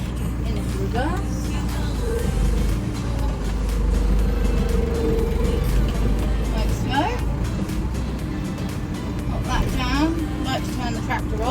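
A farm tractor engine rumbles steadily at close range while a bale is lowered, with voices talking over the continuous drone.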